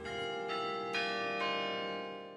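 Tower bells ring out Westminster chimes, a new bell stroke landing about every half second over a long ringing hum of overlapping tones, steady and fairly loud with no voices.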